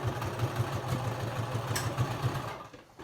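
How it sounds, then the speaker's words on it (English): A sewing machine stitches down the pleats of a fabric face mask, its needle running in a quick, steady rhythmic whir close by, then slowing and stopping at the end. "So I'm attaching it as I sew my pleats down"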